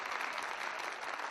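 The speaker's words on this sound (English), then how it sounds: "can we start with a round of applause at 3?" Brief, steady burst of audience applause at a comedian's live show, a dense wash of clapping hands with no voices over it.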